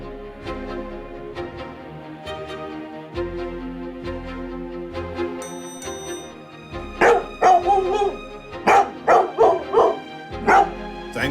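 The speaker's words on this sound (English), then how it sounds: "Thanks to the dog's barking," A dog barks repeatedly in loud, close bursts during an emergency rescue, the barks coming in quick clusters over a steady musical background.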